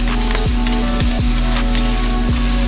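Vegetables frying for a gumbo give off a loud, close, steady sizzle with faint scattered pops and crackles throughout, and no voices.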